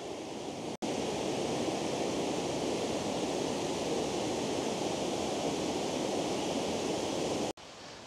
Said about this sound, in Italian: davanti a me queste cascate letteralmente meravigliose